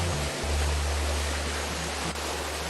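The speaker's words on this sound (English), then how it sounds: "the noise of the waterfall does not seem to be stopping." A waterfall in the video game Monkey Island 2 roars as a constant, dense rushing wash of water noise with a steady low rumble, unbroken throughout.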